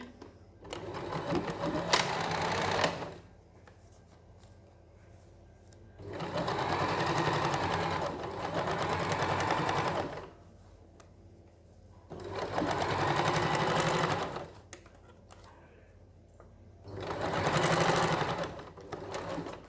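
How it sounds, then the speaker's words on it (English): A sewing machine stitches fabric forwards and backwards for a pyramid pouch, running in four separate loud bursts of rapid mechanical whirring, each a few seconds long, with pauses between them. "I'm going to start sewing with a forwards backwards stitch"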